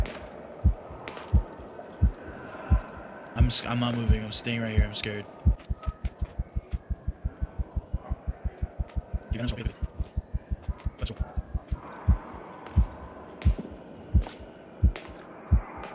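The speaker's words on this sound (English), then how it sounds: "What's the heartbeat?" Steady heartbeat sound effect from the video game Medusa's Labyrinth, a regular thumping pulse that runs through the middle of the clip beneath a frightened player's speech and other eerie game noises.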